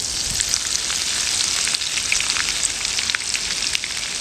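Curry leaves and grated ginger frying in hot oil with mustard seeds, a close, steady crackle with sharp pops and spits running the whole time, no voices.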